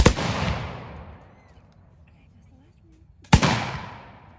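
Reenactors fire musket volleys at a historical birthday celebration at Andrew Jackson State Park in South Carolina: a loud outdoor blast at the start rolls off into a long echoing tail, then a second sharp report follows after about three seconds.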